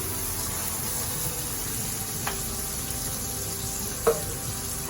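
Onions with salt frying in a pan on the stove, giving a steady soft sizzle broken by a couple of brief scrapes as they are stirred, quiet and close with no voices.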